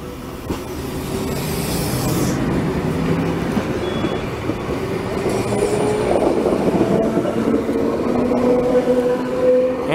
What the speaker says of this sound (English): And here we have a VSET now departing for a